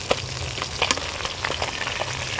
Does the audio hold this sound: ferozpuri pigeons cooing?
no